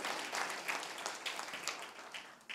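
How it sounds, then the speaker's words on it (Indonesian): A church congregation claps during a sermon, a fairly faint, scattered patter of hands with uneven bursts rising and falling, heard from a distance in a reverberant hall. "Boleh tepuk tangan saudara buat Tuhan, amin."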